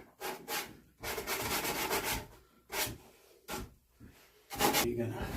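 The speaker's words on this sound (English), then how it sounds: "You're gonna sand that nose down a little bit." A sanding block rasps over the nose of a deer taxidermy form in loud, rhythmic bursts of scraping strokes with short pauses between them, heard up close.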